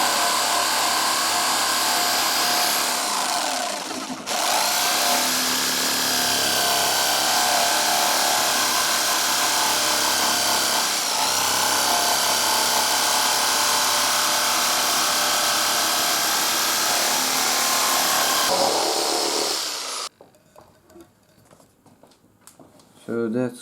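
An Erbauer EJS750 750W jigsaw cuts through wood with a loud, steady buzzing rasp, pausing briefly twice before running on and then stopping, leaving faint handling sounds at the end.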